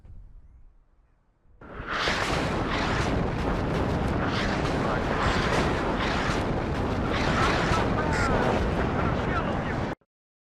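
Heavy artillery fire in the Cold War strategy game WARNO erupts after a quiet moment, a dense, continuous roar of overlapping booms and blasts that stays loud until it cuts off abruptly.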